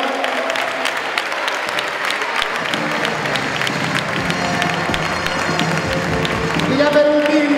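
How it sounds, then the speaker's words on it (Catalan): A basketball club's presentation gala audience applauds its honorary president, steady clapping filling the room alongside crowd murmur and some voices throughout. "Un aplaudiment per Santiago"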